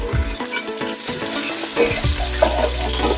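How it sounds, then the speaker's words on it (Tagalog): Ginger frying in hot cooking oil, sizzling steadily with occasional stirring scrapes and clinks from the pan, no talking. "Ako kasi pag ako nagluluto, inuuna ko muna yung luya."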